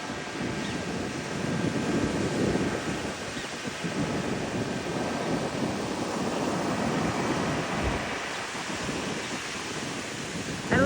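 Ocean surf breaks steadily along the shore near a civic center, a continuous rumbling wash with wind buffeting the microphone and no talking.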